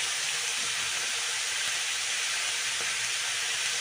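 Bottle gourd peels stirred in a hot cooking pan give a steady, even sizzle and hiss throughout, with a faint scrape or two and no talk.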